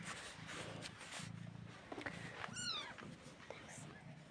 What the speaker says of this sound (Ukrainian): І ось наші кошенятка.